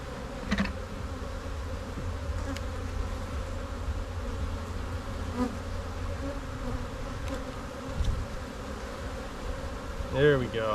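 Honey bees buzz densely and continuously from an opened hive during a brood frame inspection, the close swarm drone holding steady throughout with occasional light knocks and handling noises.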